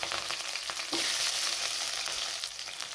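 Garlic, ginger, chilli and capsicum sizzle steadily in a hot pan, a dense continuous frying hiss with faint stirring scrapes, close and fairly loud throughout with no talking.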